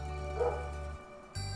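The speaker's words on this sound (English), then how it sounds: "Sorry if you can hear my dog barking" A single dog gives a short, muffled bark close by, faint and brief over a low steady indoor hum.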